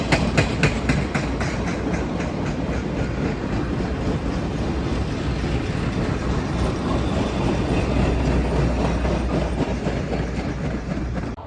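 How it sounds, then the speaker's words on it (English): A passenger train hauled by a pair of ALCO C420 diesel locomotives rolls steadily past in the northwestern Arkansas countryside, a loud continuous roar of engines and rail noise with rhythmic clickety-clack throughout. "Passenger train power today is a pair of C420s."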